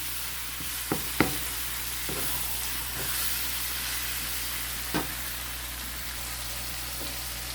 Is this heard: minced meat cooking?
yes